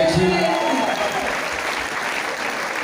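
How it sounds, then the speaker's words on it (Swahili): A congregation claps for a bishop at a church service: loud, dense applause from a crowd indoors, steady throughout and slowly easing, with a voice briefly audible at the start. "Tupigie askofu makofi mazuri"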